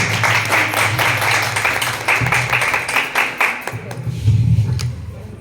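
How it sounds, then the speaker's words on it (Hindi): Teachers at a school prize distribution programme clap with both hands, a dense loud burst of applause with a low voice or hum underneath, swelling again toward the end. "तो आप अपने लिए दोनों हाथ से तालियां बजाइए"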